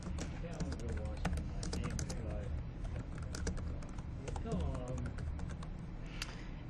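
Rapid typing on a computer keyboard while filling in hospital admission order forms: dense, irregular clicks and taps, close and clear, with brief pauses and faint room background.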